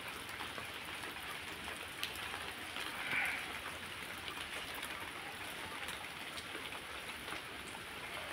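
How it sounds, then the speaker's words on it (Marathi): Steady rain falls over a village home in Maharashtra, a dense, even patter of drops on surfaces that holds at a moderate level throughout without pause. "छान पाऊस पडतोय, रिप रिप रिप रिप"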